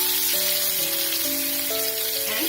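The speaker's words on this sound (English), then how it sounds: "Now I'll add finely chopped onions" Finely chopped onions fry in oil with dal, giving a constant, dense sizzle like heavy rain, with a simple melody of held musical tones playing over it.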